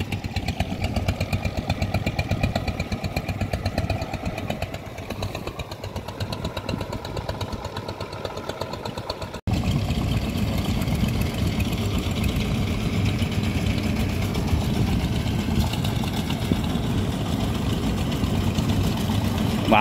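Several small farm tiller engines run steadily and loudly close by, a continuous mechanical drone with a brief cut partway and a heavier, fuller roar afterward.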